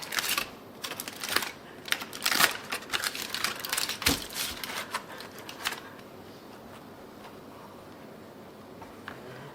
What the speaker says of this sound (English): let me chop up a few green onions to go on top